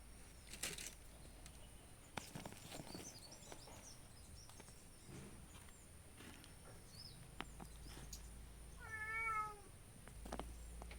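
A cat gives a single short, faint meow outdoors in a garden where seeds are being sown, amid soft rustling and scattered taps.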